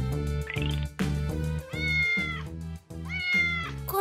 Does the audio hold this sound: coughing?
no